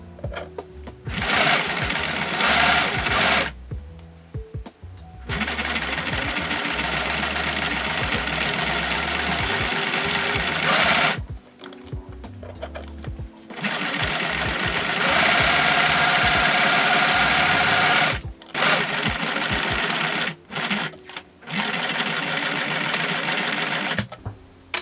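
Sewing machine stitching fabric over pins, a loud steady mechanical whir running in long bursts with several short pauses and stops between seams.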